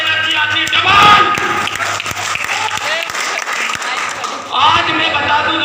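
A crowd at an indoor network-marketing seminar bursts into loud, sustained applause with scattered cheers, swelling again near the end.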